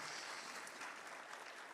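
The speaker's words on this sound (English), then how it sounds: "Big round of applause to Vincent for all the work he has done." Conference audience applauding steadily at a tech summit, a dense, even clatter of many hands sustained throughout without talk.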